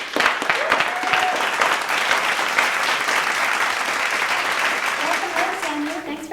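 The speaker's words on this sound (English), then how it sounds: "A round of applause." Loud, sustained applause from a late-night talk show studio audience fills the room, steady throughout, with a voice breaking in near the end.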